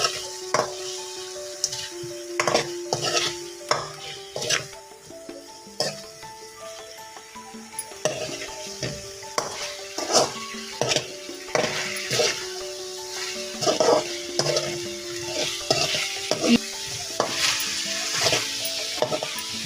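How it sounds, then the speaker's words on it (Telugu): Masala being stirred into potato curry frying in a pan, a steady sizzle broken by repeated scraping strokes of the spoon against the pan, close and fairly loud with no talk. "మసాలా అంతా ఈ ఆలుకు పట్టేటట్టు కలపాలండి."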